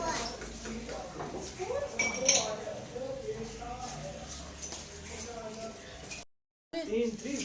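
Faint clinks of metal utensils and dishes being gathered and carried in a home kitchen during meal preparation, with scattered light chinks under steady conversation.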